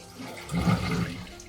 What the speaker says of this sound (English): Then you pour out the rice with a strainer from the bowl.